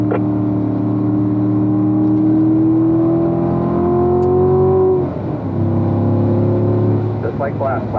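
Race car engine accelerating out of a corner, a loud close tonal roar whose pitch climbs steadily for about five seconds, then breaks briefly and settles back into a sustained drone, with some voice present.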